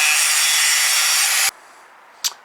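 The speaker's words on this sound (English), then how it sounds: "So basically, we're just going to go in and grind that down." Power grinder working down a steering coupler rivet on a 1993 Chevy K1500, a loud continuous high grinding whine that cuts off abruptly, followed by a quiet pause and a brief short burst of grinding.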